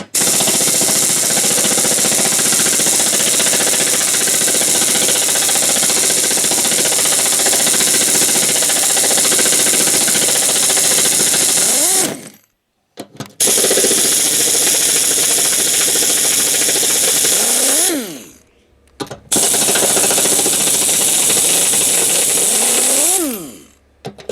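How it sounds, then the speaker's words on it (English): An impact wrench removes the four spindle bolts from a Kubota RCK32 60-inch tractor mower deck, giving three long, loud, continuous buzzing runs separated by short pauses, each ending in a dropping whine. "So we'll take out the 4 bolts."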